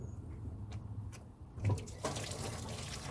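Coolant water drains from a Rolls-Royce Silver Shadow into a catch tray, a soft continuous trickle and splash with a few brief louder gurgles, heard close and faint.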